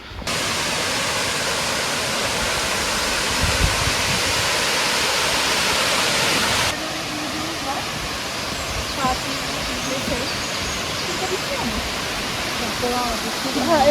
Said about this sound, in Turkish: Güzeldere şelalesindeyiz.